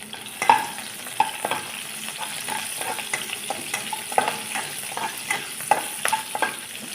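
Cinnamon and dried chillies frying in a kadai for a village-style mint chutney, a steady soft sizzle broken by scattered clicks and scrapes of stirring, close and moderately loud with no talking.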